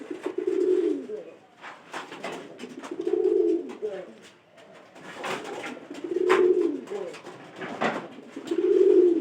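Pigeons coo repeatedly at close range, with low rolling calls arriving in rhythmic bursts about every two to three seconds, and faint background noise in between.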